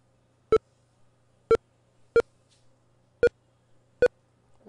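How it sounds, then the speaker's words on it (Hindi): Short electronic beeps sound while Telegram files download on a phone, five crisp tones at roughly even one-second intervals, clear and alone over a faint low hum. "यहाँ पर आपको डाउनलोड की बीप सुन रही होगी"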